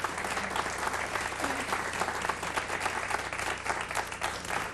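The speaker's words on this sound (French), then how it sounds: "Camille et Louise, oui, ben ça vaut probablement des applaudissements." Studio audience applause for contestants Camille and Louise on a French-language radio quiz show, a steady, fairly distant wash of many hands clapping throughout.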